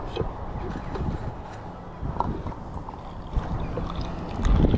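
Wind gusting across a microphone on a Ribble riverbank during an evening fishing session, a low rumbling buffet that swells and dips unevenly, strongest near the end, with faint rustles and small handling knocks.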